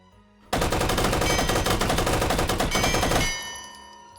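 Machine pistol variant firing in the VR shooter H3VR: one sustained, rapid automatic burst of close, loud shots lasting nearly three seconds, ending abruptly and leaving a short fading ring.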